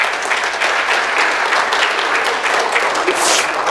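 An audience at an annual convention applauds a guest speaker, a loud, sustained, even burst of many hands clapping close by, with no speech over it.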